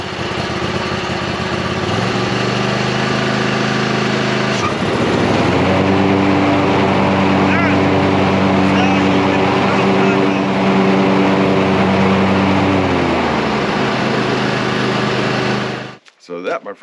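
A Badboy Elite 60-inch zero-turn lawn mower engine runs loud and steady, its pitch shifting up around two and five seconds as the deck is raised, then cutting off abruptly near the end.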